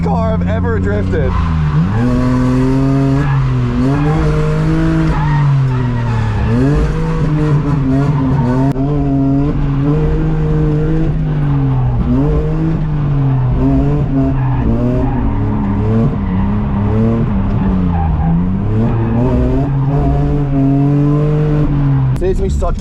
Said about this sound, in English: This might be the slowest car I've ever drifted.